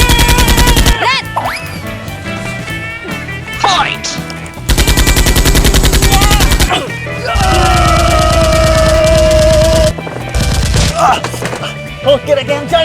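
X-Shot Nerf toy guns fire in loud, rapid bursts during a police-versus-criminals play fight, with several separate volleys of clattering shots and children's voices shouting between them.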